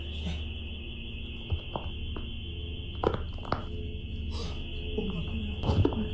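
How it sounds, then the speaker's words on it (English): A continuous high-pitched home security alarm tone sounds without pause after a front-door break-in, with scattered thumps and faint movement noises underneath. "they hear someone breaking in through their front door, setting off the alarm"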